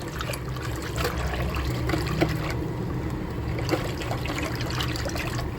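Salt is stirred into yogurt for dahi phulki, a steady wet, squelching churn with soft liquid trickles and light scrapes against the bowl, continuous and close with no talking.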